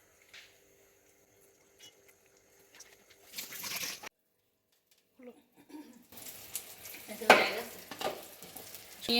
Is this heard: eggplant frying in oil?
yes